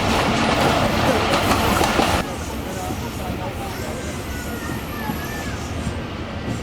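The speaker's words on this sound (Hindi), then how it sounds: "ओकाड़ा रेलवे स्टेशन पर हमारी ट्रेन पहुंच रही है" The Musa Pak Express railcar pulls into Okara railway station in Pakistan with a loud, continuous rail rumble and rattle that drops to a softer rolling hum partway through.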